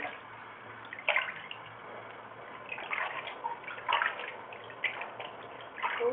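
An Indian Ringneck parrot splashes in bath water, soft trickling punctuated by irregular brighter splashy bursts, close up and fairly quiet, with no talk over it.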